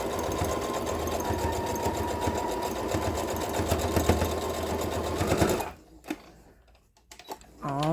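A sewing machine stitching T-shirt fabric runs fast and steady with a dense mechanical chatter for about five and a half seconds, then stops, leaving faint handling noises.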